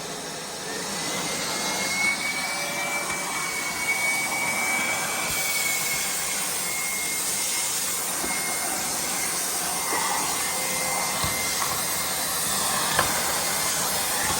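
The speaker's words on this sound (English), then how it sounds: "Now let me go to turbo." EGO 56V cordless 9-gallon wet/dry vacuum running on turbo, a loud steady high-pitched whooshing roar with a whine, sucking up chunks of foam insulation, close and continuous without talk.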